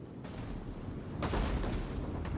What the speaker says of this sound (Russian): Что-то в воздухе взрывается.